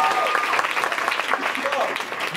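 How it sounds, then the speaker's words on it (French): Comedy show audience applauding a mention of Michelle Obama: a dense, steady wash of clapping that holds loud throughout, with a voice briefly rising over the crowd. "Applaudissez pour elle."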